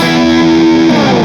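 A distorted electric guitar playing bar 8 of a song holds a loud, gritty double-stop with wavering vibrato, then slides off at the end, with no talking.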